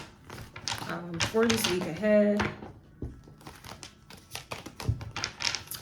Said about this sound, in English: I'm going to start shuffling these tarot cards